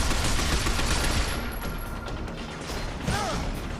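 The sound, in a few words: gunfire in the video game Binary Domain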